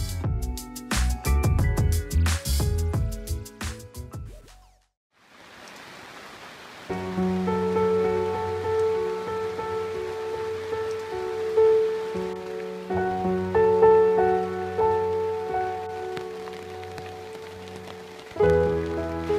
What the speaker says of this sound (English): First couple of days, it just rained,